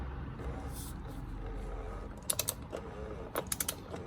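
Torque wrench tightening the oil filter housing on a BMW M2 LCI with an N55 engine: two short bursts of quick ratcheting clicks close by, over a low background rumble.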